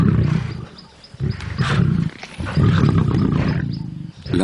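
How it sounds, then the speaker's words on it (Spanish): Seven lions, two lionesses among them, fight over a warthog carcass, loud close snarls and roars in repeated bursts with brief pauses between. "Los 7 leones luchan por conseguir un buen pedazo"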